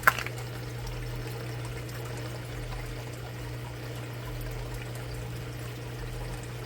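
Water gushes from the sump as it flushes a new growbed on an outdoor 60-gallon aquaponics system at night, a soft continuous wash over a steady low pump hum, with no talking.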